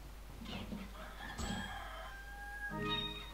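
Chickens clucking and crowing in the video game Resident Evil 4, a few faint overlapping calls over a low steady hum, with no voices.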